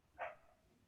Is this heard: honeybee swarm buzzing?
no